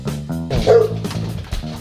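Dogs in the video game Dog Lover bark and yip in quick succession, several close, loud calls running back to back with no speech.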